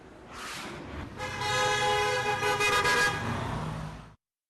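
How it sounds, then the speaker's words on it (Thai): Several car horns from passing vehicles toot loudly and overlap for a few seconds over traffic rumble at the ancient Chiang Saen city gate in Thailand, then stop abruptly. "เสียงแตรจากรถที่ผ่านไปมา ดังไปทั่วประตูเมืองเชียงแสน"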